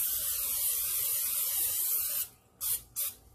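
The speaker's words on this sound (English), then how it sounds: "We're going to go ahead and spray it." Pam cooking spray hisses onto a pan in a steady, loud, close spray lasting about two seconds, then two short quick bursts follow.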